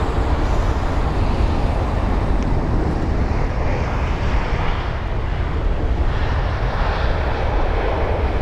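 A British Airways A320neo, flight BA953 from Munich, arrives at London Heathrow, its engines a broad, steady roar that stays loud and even throughout, with no voices.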